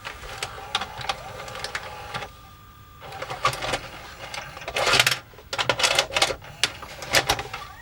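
An LG GC480W VCR's tape mechanism whirs and clatters in loud, uneven bursts, with motor hum broken by rapid mechanical clicks and brief pauses between spells of activity.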